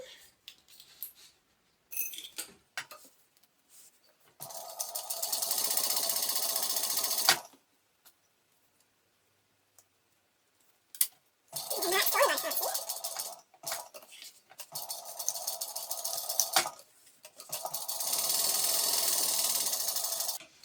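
A sewing machine stitches a pocket onto a mini tote bag, running in several bursts of fast whirring stitching separated by quiet pauses, with faint voice and small handling noises between runs.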